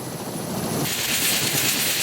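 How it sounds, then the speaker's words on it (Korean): A coast guard rescue helicopter's rotor and engine noise roars steadily nearby in strong sea wind, a broad whooshing drone that grows slightly louder partway through. "목포 해양경찰 소속 구조 헬기입니다."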